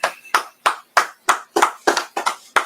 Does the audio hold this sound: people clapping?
yes